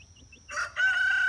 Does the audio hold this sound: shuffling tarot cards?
no